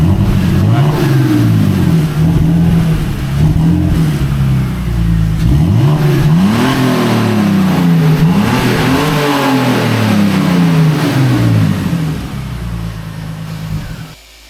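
A BMW E39 520i's new exhaust drones loudly up close, its pitch swelling and dropping as the engine is revved again and again before it cuts off.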